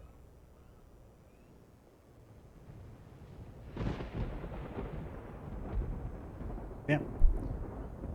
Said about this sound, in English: Apparently Mass Effect can do it as well